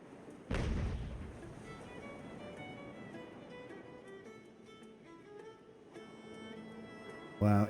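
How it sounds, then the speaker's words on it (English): Ship cannon fire in Ultimate Admiral Age of Sail: a sharp heavy boom early on, then a long low rumble under game ambience with faint tonal effects, and another abrupt loud hit at the very end. "it's almost like the cannon fire made the boat twist"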